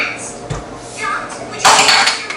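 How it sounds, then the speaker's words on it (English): Tomatoes are cut in half on a kitchen counter and tossed into a blender for sopa de fideo, giving brief knife and clatter sounds followed by a louder plastic clunk near the end, with a voice speaking over it. "I usually cut it in half, and then I throw it in the blender"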